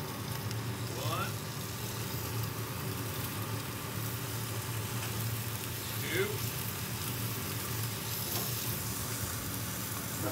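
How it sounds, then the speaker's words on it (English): Three slices of bacon frying on a flat-top griddle make a steady, moderate sizzle that runs throughout, with a low engine-like hum and voices talking over it. "we're gonna cook up some bacon"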